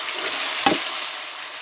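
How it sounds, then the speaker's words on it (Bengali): Spice paste with chopped tomato frying in a pan, a steady sizzle with one brief clatter of stirring at the middle, close and fairly loud throughout. "সুন্দর করে মশলাটা আমি কষিয়ে নেব"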